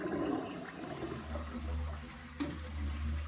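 A Glacier Bay toilet flushing, a steady rushing of water through the bowl that swells and surges for a few seconds, close up and alone with no voices.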